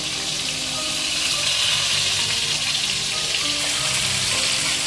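Loud, continuous sizzling and crackling of fish frying in hot oil in a pan, close and steady throughout with no talking.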